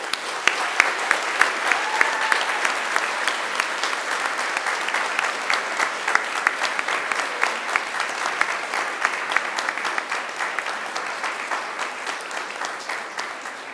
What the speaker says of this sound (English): I'd like you to give them an almighty round of applause.